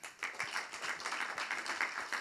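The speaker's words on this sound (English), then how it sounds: "please give a round of applause for Mr. Larry Washington and his two children" Clapping for a father and his two children at a community conversation event, a small room's worth of hands beating a brisk, moderately loud round with individual claps audible, steady to the end.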